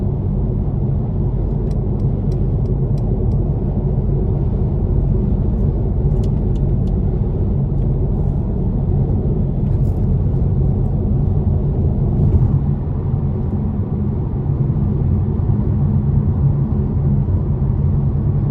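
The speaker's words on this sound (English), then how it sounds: "Mercedes and BMWs for me just have the best sounding exhaust, and they're just so much fun to drive." A 2018 Mercedes-Benz C43 AMG coupe on the move, its engine and exhaust a loud, steady low rumble heard from inside the cabin, unbroken for the whole stretch with no one speaking.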